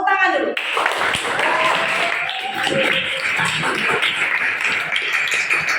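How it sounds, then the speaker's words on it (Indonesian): A classroom of people claps hands together in a dense, sustained burst of many overlapping claps, with voices and cheering mixed in throughout. "Tepuk tangan dulu."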